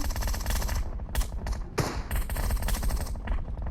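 In the PUBG Mobile video game, a Groza rifle fires dense, rapid bursts of gunfire in a continuous rattling stream, with brief pauses between volleys.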